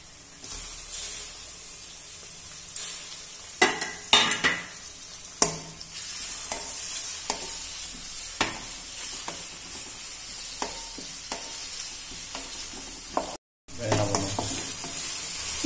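Chopped tomatoes and onions sizzle and spit in a hot pan while a spoon stirs them in repeated scraping strokes, near and loud, with a brief cutout of sound late on and no talking.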